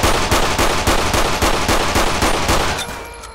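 Rapid gunfire from a GTA V LSPDFR shootout in Sandy Shores, a loud run of close, evenly spaced shots that keeps up for about three seconds before thinning out at the end.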